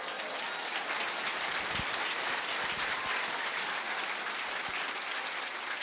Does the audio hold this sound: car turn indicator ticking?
no